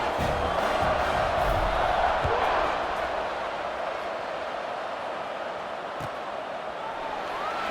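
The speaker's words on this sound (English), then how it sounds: "this crowd now ready to get behind them" A college football stadium crowd roars before kickoff, a broad, sustained cheer that swells then settles into a steady din.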